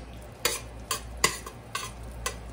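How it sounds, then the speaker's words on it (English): Five strips of chopped bacon browning in a pot for New England haddock chowder, an even stir rhythm of five soft scraping strokes over a gentle sizzle, close and moderately loud, no voices. "I'm just gonna add that to the pot and brown those up"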